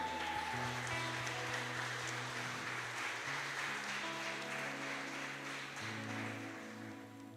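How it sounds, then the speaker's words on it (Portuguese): A church congregation claps together in a sustained round of applause during a Baptist service, steady and moderately loud, fading slightly toward the end. "uma salva de palmas para a irmã Gislaine."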